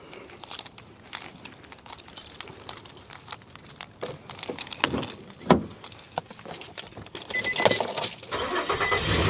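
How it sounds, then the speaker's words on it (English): A 2006 Nissan Frontier engine cranks and catches after a heater outlet hose replacement, preceded by scattered clicks and knocks, with the engine noise building steadily toward the end. "let's start the car."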